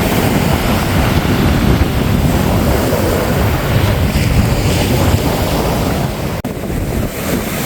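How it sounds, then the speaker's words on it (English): A boat out on a choppy sea off the Florida coast, with loud continuous wind buffeting the microphone over rushing water and waves. "The seas are getting a little choppy."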